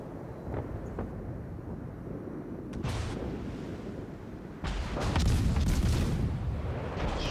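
Naval guns boom in the World of Warships game, deep rumbling salvos rolling out with a heavy low roar, the biggest and loudest blast arriving late and sustaining noisily.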